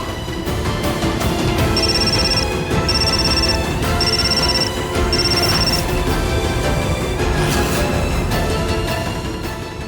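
Mobile phone ringtone playing loud and close, a repeating electronic melody in regular bursts with short gaps, running for about ten seconds with no talking.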